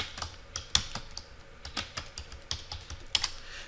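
Computer keyboard keys tapped in an irregular run of close, crisp clicks, typing network switch configuration commands, with no voices.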